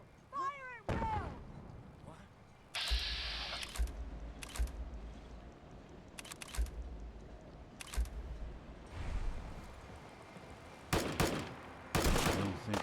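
Gunfire in a Fallout 4 battle, with scattered bursts of shots and sharp cracks over a noisy game soundscape, loud and irregular, with voices shouting now and then.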